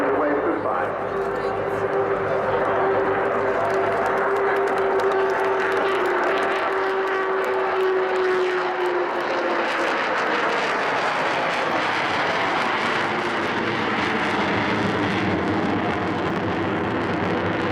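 Avro Vulcan XH558 jet bomber roars past on its final flypast at the Southport Air Show, a loud sustained engine rumble with a steady tone that falls away as the aircraft passes, with people talking throughout.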